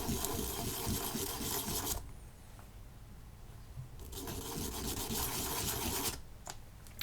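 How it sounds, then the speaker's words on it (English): Sanding a shamisen itomaki tuning peg: two bursts of steady, close abrasive rasping with a short quieter pause between them, then a brief gap and a little more rubbing at the end. "turn the Itomaki a little bit just to keep the sanding smooth and feathered"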